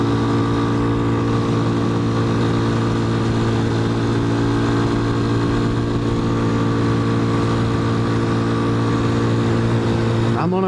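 A TBR7 motorcycle engine pulls steadily in 5th gear while climbing a cold mountain road, a constant loud drone with strong, even harmonics and wind rush throughout, unbroken for the whole stretch.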